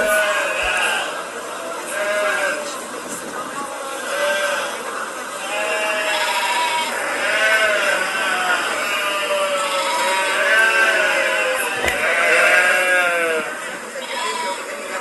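A flock of sheep and lambs bleat loudly and constantly, many overlapping wavering calls rising and falling close by with no pause.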